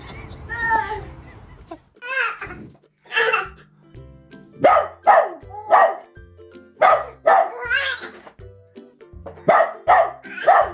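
Big dog barking in repeated loud, sharp bursts near the microphone, several barks in quick succession across the clip, with a baby's babbling or cry heard faintly at the start.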